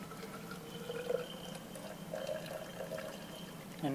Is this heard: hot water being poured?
yes